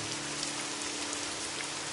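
Heavy rain pouring steadily onto surfaces, a dense, continuous patter of close drops with no voices, even in loudness throughout.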